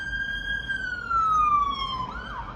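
An ambulance siren on a street in an older residential area holds a long, slowly falling tone, then breaks into a warbling sweep, fairly clear above low traffic rumble.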